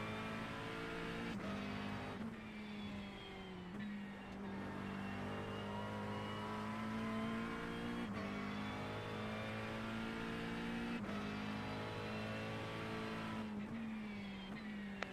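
Race cars at Road Atlanta, including an LMP2 prototype closing from behind on a McLaren 720S GT3, roar continuously with loud engine drone, shifting pitch and repeated gear-change blips through the whole stretch.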